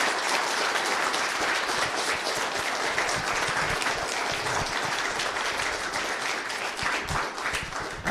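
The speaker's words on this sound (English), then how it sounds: "he deserves a huge round of applause in this room today" Sustained, full applause in a room honoring Senator Lamar Alexander at a ceremony for American Nobel Prize recipients, a dense even roar of many clapping hands with no talk over it.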